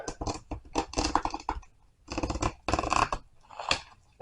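A seam ripper snipping the stitches of a marine upholstery enclosure zipper, heard as short crisp clicking cuts in close bursts with brief pauses between them.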